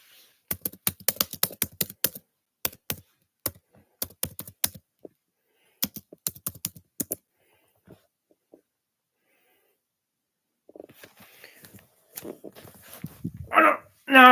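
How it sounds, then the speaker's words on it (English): Computer keyboard typing in quick irregular bursts of clicks, close and clear, pausing mid-way, then fading into faint room noise and brief voices near the end. "I was typing on the computer"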